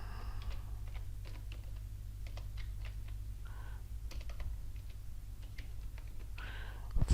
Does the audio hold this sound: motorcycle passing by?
no